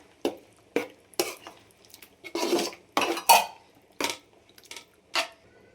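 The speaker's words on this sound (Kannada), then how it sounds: "ಮಿಕ್ಸ್ ಮಾಡ್ಕೋಬೇಕು ಚೆನ್ನಾಗಿ ಈ ರೀತಿ." A spoon scrapes and clanks against a metal pot as chicken gravy is stirred, roughly a dozen separate knocks and scrapes spread unevenly and heard close up, with no voices.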